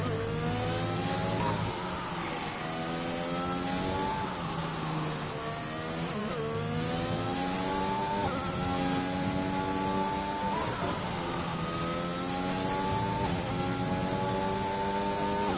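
Aston Martin Formula 1 cars battling in the F1 2021 video game at Budapest, a sustained high-revving engine whine rising and falling through gear changes, loud and steady with no voices.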